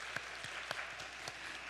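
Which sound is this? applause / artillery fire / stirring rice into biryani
applause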